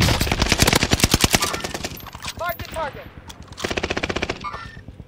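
Rapid automatic gunfire from a video game, delivered in two long bursts with a short gap between them, loud and close, while players' voices chatter over the shots.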